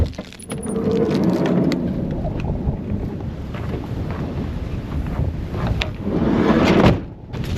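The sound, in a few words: wind howling on a bluff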